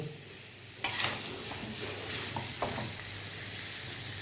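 Potato and papaya curry stir-frying in a pan over low heat, a soft steady sizzle with a few brief scrapes and clinks of the spatula against the pan.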